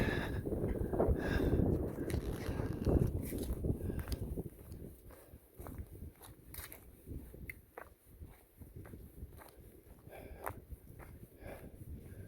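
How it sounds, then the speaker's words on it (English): Wind rushes over a mountain ridge near Chestnut Knob Shelter on the Appalachian Trail, a broad roar that buffets the microphone strongly at first and then eases, with scattered footsteps and light knocks close by. "And also getting wind stepping up another notch."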